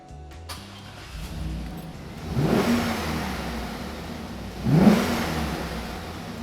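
A truck engine fitted with an AEM Brute Force air intake runs at idle and is revved twice, each rise swelling into a throaty roar before falling back to a steady hum.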